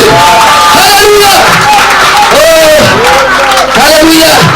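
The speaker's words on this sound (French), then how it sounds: "Donnez une acclamation au Seigneur Jésus" A church congregation at a revival service shouts a loud, sustained acclamation. Many voices overlap in wavering cries and whoops, close and intense, with no pause.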